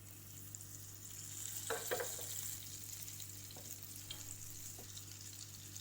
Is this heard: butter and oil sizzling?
yes